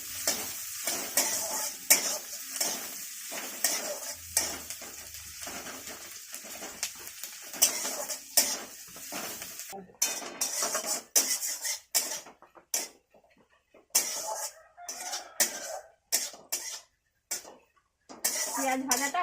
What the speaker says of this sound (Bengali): পেঁয়াজটা ভেজে তুলে রাখবো